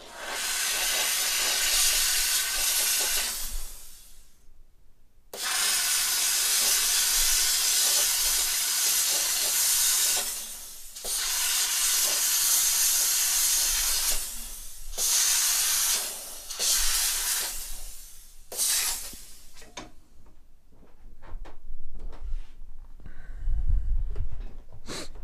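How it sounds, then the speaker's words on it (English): A steamer hisses loudly while steam-cleaning a 3D-printed dental retainer, long continuous blasts broken by brief pauses, then shorter spurts toward the end, with no talking. "I'm about to hit the steamer real quick."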